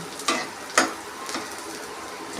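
Mustard seeds popping in hot oil in a pan: three sharp, crackling pops spaced apart over a faint, steady sizzle, with no voices.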